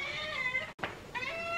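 A hungry cat meows for food, two drawn-out, insistent meows close to the mic separated by a brief gap, with no talking over them.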